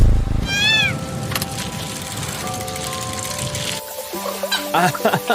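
A white cat in the video game Marathon gives one rising meow near the start. Sustained game tones and background voices follow.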